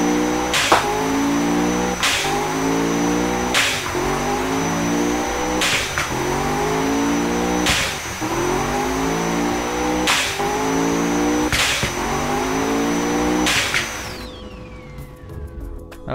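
A 2250 BHP 10.9 litre engine revs repeatedly toward red line. It gives about eight loud, close, rising roars in a steady cycle, each ending in a sharp crack, before winding down and stopping.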